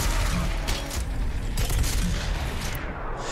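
Heavy combat gunfire in DOOM Eternal, a dense, loud barrage of rapid shots and booming impacts running continuously without pause, with no voices over it.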